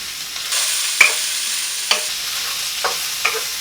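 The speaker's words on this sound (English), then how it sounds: "First thing we want to do is add the onions." Red onions hit a hot pan and sizzle steadily at medium heat, with a few sharp stirring scrapes and clicks up close.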